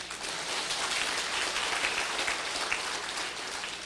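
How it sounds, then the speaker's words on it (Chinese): An audience at a political assembly meeting applauds in a dense, steady wash of many clapping hands, even in loudness throughout and with no voices standing out. "好，各位拍手。"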